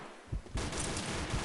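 Full-auto fire from an ACR rifle in the Combat Arms video game, a dense rapid burst of shots that starts after a brief quieter moment and keeps rattling steadily at moderate level.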